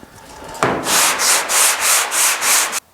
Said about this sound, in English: I'm gonna keep sanding on it.